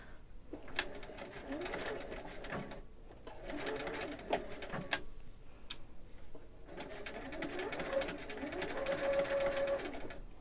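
A sewing machine stitches a zipper onto a bag in several bursts of rapid mechanical whirring, with brief pauses and a couple of sharp clicks between runs, close and steady.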